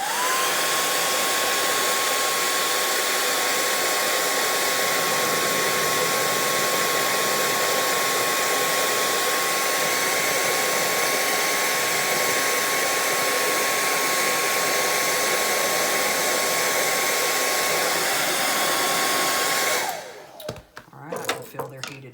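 A hair dryer blows hot air onto the head of a Mattel Grogu doll, giving a loud, steady whirring roar with a fixed tone for about twenty seconds before clicking off, leaving brief handling noise.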